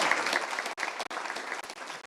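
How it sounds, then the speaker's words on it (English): Audience at a retrofit event at the Building Centre in London breaks into applause, a steady dense patter of many hands clapping at moderate distance, briefly dipping and resuming. "Round of applause, yeah."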